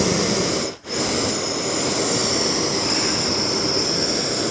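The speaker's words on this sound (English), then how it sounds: "Torch going here." A gas torch heats the eye of a connecting rod from a 289 Ford engine, giving a loud, steady roaring hiss close by that briefly cuts out near the start and then resumes unbroken.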